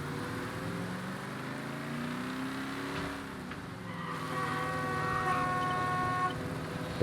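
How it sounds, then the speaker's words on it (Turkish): A car horn honks in a drawn-out blare over the hum of a running engine, with tires briefly squealing, in the video game Mafia: Definitive Edition. "Bana korna basmayacaksın."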